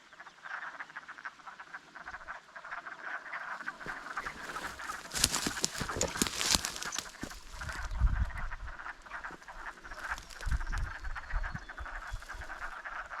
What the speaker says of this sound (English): Are those frogs?